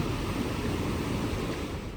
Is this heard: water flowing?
yes